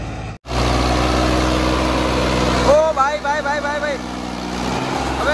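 A tractor engine drones steadily and close by while it works to climb a muddy slope, with someone speaking over the running engine.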